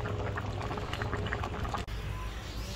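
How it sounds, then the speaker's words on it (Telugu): Tomatoes simmering in a pot of salted water, a steady low bubbling and hiss that runs unbroken except for one very brief dropout near the end. "ఇందులో కొంచెం సాల్ట్ వేసి ఉడకబెడితే మెత్తగా ఉడికిపోతాయి."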